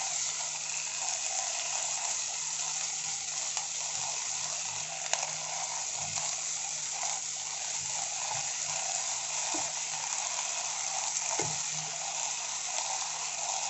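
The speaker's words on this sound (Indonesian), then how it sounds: "Okay, tauge ni kita masak sekejap, jadi layu sekejap dengan minyak bawang tu." Bean sprouts sizzling in shallot oil in a pan, a steady close frying hiss with occasional faint stirring taps, no talk over it.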